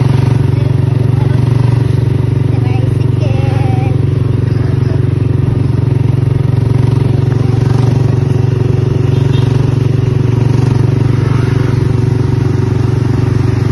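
A motorized tricycle's small engine runs steadily and loudly throughout, a constant low drone with rattling, close by, with faint voices mixed in.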